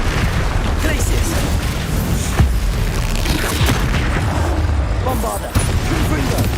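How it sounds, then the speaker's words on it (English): Glacius ice spell cast during combat in Hogwarts Legacy, a dense rumbling boom with crackling bursts and a sharp hit near the middle, layered over busy battle noise and a voice. "Glacius."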